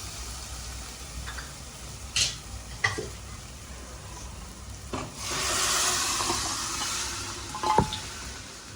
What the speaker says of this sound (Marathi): आता आपण शिजलेलं मटण टाकूया